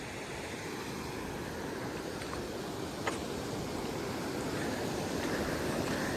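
A Himalayan mountain stream on a trek near Buran Ghati in Himachal flows at a moderate pace. The rush of water is steady and broadband, fairly close and even, with no voices.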